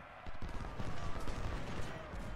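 Rifle fire from Civil War sharpshooters in Ultimate General: Civil War crackles as a dense, distant volley, a continuous rattling fusillade that stays fairly faint through the whole short stretch.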